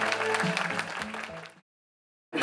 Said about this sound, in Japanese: 皆様拍手でお送りください